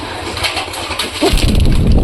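Pigeons cooing among a loft of domestic pigeons, low soft coos rising under a rumbling background near the end, fairly close and unaccompanied by talk.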